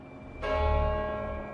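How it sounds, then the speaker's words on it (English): Church bells of St Paul's Cathedral in London ringing out, a loud sustained resonant peal that swells after a quiet start and hangs with long ringing overtones, heard alone. "In London, the bells of St. Paul's rang out"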